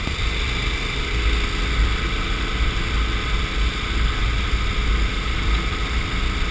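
A KTM 1090 Adventure R motorcycle on extreme off-road tires ridden along a tidal shoreline, its engine droning steadily and loudly under wind rush, with no voices.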